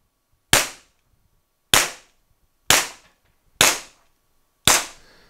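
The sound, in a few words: first five shots fired from the TR50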